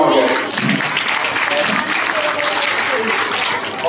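Steady, dense clapping from an audience at a nursery and primary school summer camp program, applauding the children and teachers for a few seconds.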